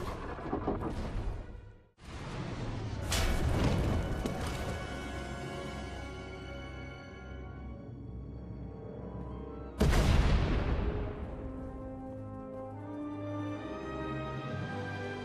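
Deep booming explosions rumble through a sci-fi game scene in SWTOR as a tunnel collapses, a heavy blast early on and a second sharp boom later, each followed by long crumbling, rumbling decay.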